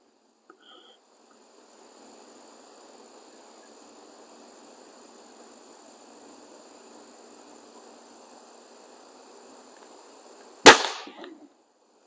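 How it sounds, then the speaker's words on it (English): BSA Airsporter Stutzen RB2 air rifle fired once: a single sharp, loud crack near the end after a long quiet stretch with faint background hiss, followed by a brief rattle. "All right, shot number 1."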